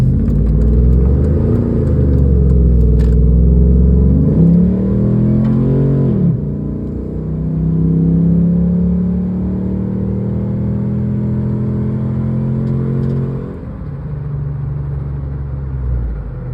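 A 2003 Dodge Ram 1500 pickup with the 5.7 Hemi V8 and a Diablo Sport tuner accelerates hard. Its loud, close engine roar climbs in pitch, drops at two gear shifts and then keeps pulling, with no talking.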